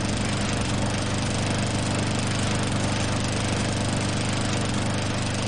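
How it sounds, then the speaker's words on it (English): A lawnmower engine in a video game drones continuously at a steady loud level, with no break or change across the whole stretch and no talk over it. "I want to kill what's his head with a lawnmower."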